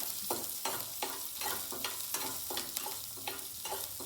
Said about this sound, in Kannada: ಮೆಣಸಿನ್ಕಾಯಿನ ಫಸ್ಟೇ ಫ್ರೈ ಮಾಡ್ಕೊಂಡ್ರೆ ಅಷ್ಟು ಖಾರ ಆಗಲ್ಲ